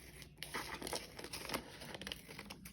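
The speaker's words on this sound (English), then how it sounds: "I'm just going to take my scissors" Paper crinkling and snipping as scissors cut through a junk mail envelope, a steady run of close, small rustles and crisp cuts with no talking.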